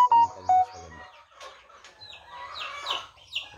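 Chickens cluck close by in short, irregular bursts, several birds overlapping with the occasional longer call, alone with no talking.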